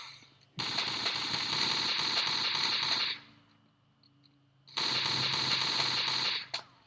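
Weapon gunfire in the Marathon video game: two long bursts of rapid automatic fire, close and loud, separated by a short lull of quiet ambience.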